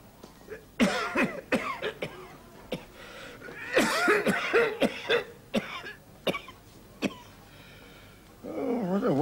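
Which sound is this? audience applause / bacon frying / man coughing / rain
man coughing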